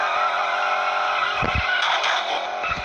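A car in a racing video game screeches through a skid, steady engine drone with tire squeal rising briefly over game music, no talking.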